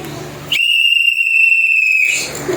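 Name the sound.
emergency go bag whistle being blown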